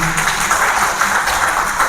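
Audience applause welcomes a guest at a BJP office gathering in Sirsa, Haryana, heard as a continuous, fairly loud spread of clapping from a crowd throughout.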